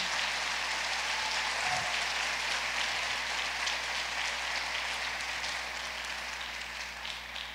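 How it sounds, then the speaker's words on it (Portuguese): A church congregation applauding during a sermon: a dense, continuous patter of many hands clapping at once, holding steady for several seconds before easing slightly at the end. "Pode aplaudir o Rei Jesus."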